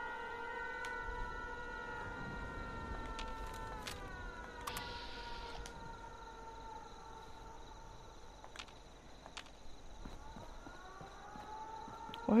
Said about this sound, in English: Where is this siren going off?